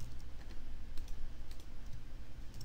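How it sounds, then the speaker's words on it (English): Rapid, steady keystrokes on a computer keyboard as an email address and city are entered, soft and close with a faint background hiss and no talking. "I'm just going to type in an email address here, type in a city"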